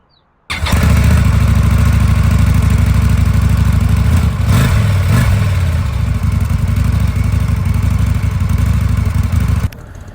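A brand-new 2024 Indian Scout 101 1250 motorcycle engine fires up and runs loud and close, with a deep steady throbbing rumble for most of the time and a brief throttle swell midway before cutting off near the end.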